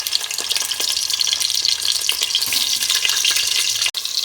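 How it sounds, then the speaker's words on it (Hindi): Six baby potatoes frying in hot oil in a pan, with a bright, continuous sizzle and crackle close by and occasional soft stirring bumps, with no talking. "तेल हमारा गर्म हो गया है। अभी इसमें हम 6 आलू को फ्राई कर लेंगे।"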